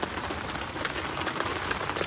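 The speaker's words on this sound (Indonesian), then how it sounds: "Suasana di luar lagi hujan cuy." Rain patters steadily on a surface outside a tent or shelter during a family camping trip at Masada Village, Bogor, a dense continuous hiss of drops with no voices.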